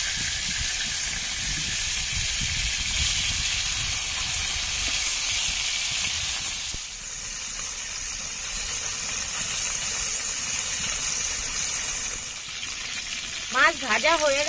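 Sating sea fish frying in a hot pan of oil, a steady hissing sizzle that stays loud and continuous, with a brief clatter near the end.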